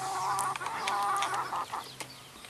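Hybrid Rhode Island Red hens cluck and murmur close by on a poultry farm, a short burst of overlapping farmyard chatter.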